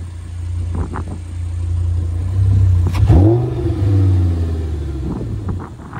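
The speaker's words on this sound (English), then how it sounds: "That V10 never gets old. It sounds so good" A 2011 Audi R8 5.2 Quattro's 5.2-liter V10, gated manual, revs up sharply from idle, a loud rising blip near the middle and a few lighter throttle stabs around it, all close and without talk.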